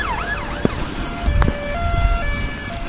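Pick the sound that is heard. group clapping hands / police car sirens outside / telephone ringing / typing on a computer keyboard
police car sirens outside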